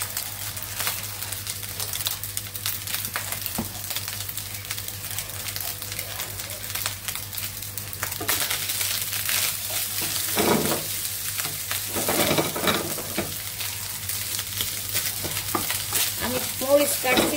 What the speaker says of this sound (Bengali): ডিম দিয়ে ভাত ভেজে দিচ্ছি